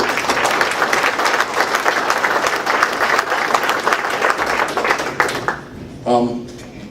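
A crowd at a Tea Party meeting in Owen County applauds a speech, dense clapping that carries steadily for several seconds before dying away, followed by a brief voice.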